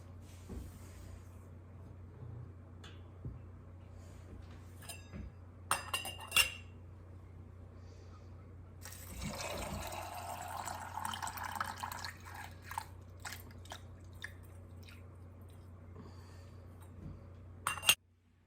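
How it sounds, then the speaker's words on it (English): Water is poured into glass canning jars for pressure canning, a burst of splashing and gurgling in the middle, set among scattered clinks and knocks of glass jars on a counter. "we're gonna put the water in, and we're gonna fill it up to the rim"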